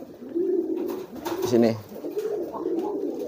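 Pigeons coo in low, rolling throaty calls close by, with someone speaking briefly over them.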